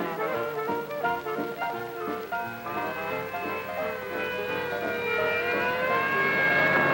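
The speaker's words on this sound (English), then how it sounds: "An ambulance heading for General Hospital and not a minute to lose." An ambulance siren wails over steady background noise, its rising and falling tones sustained throughout and growing slightly louder toward the end.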